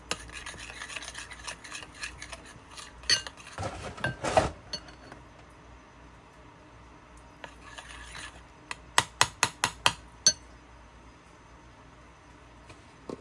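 Chicken sausage mixture being mixed with salt in a bowl, giving soft rubbing and stirring sounds with a few scattered clinks, then a quick run of sharp taps against the bowl near the end.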